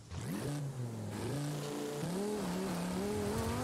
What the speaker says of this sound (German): Und wir fahren heute mal mit dem Audi R8